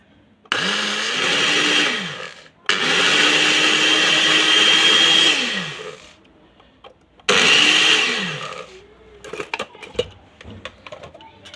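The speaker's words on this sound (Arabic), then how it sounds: "هانتوما هاد الماكينه دابا غادي نطحن هاد" An electric grinder whirs loudly as it grinds cocoa beans, running in three long bursts with brief stops between them, then giving way to scattered rattling and clinking.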